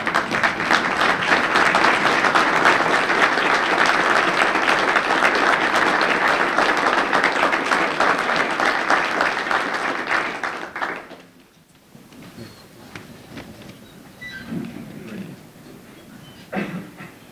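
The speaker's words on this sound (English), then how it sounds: "please stand in a round of applause" Standing audience gives a dense, loud round of applause at a city judge's swearing-in ceremony, sustained for about ten seconds before cutting off to quieter room noise and scattered sounds.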